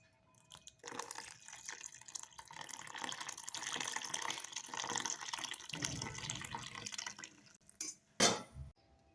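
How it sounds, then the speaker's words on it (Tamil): Water poured into tomato dosa batter in a kitchen bowl, a steady trickling stream lasting several seconds, then a brief louder splash and knock as mixing starts. "இதோட தண்ணி சேர்த்து நல்லா கலந்து வச்சுக்கலாம்"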